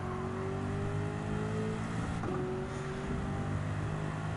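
Lamborghini Urus with an anti-lag turbo engine in Gran Turismo 7, a loud steady engine drone with a clear pitch drop at a gear shift midway, then holding again, no voices.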